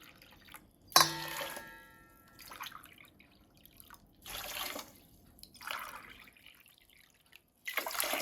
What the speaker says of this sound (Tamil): அதே மாதிரி 4 டம்ளர் தண்ணி ஊற்றிக்கலாங்க.